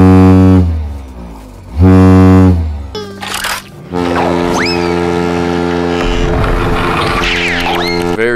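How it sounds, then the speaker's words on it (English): A huge ship horn whose electric motor spins a crank to drive a piston up and down at high speed, sounding loud deep sustained blasts with rich harmonics, a short break, then a long continuous blare with rising whistle-like overtones. "one uses an electric motor to spin a piston or spin a crank, and it shoots a piston up and down at a high rate"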